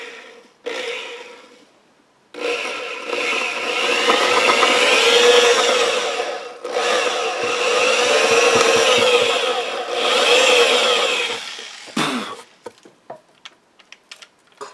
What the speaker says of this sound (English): I'm going to carefully drill a hole